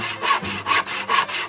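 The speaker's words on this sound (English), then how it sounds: "By securing a jigsaw blade in that same head," A jigsaw blade clamped in a drill head saws through material with rapid, rhythmic rasping strokes, about four passes in quick succession, loud and close with no voices.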